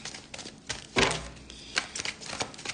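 Tarot cards drawn and laid down for a Gemini reading, a handful of soft card slaps and shuffling taps with one louder flick near the start, close and alone without talk.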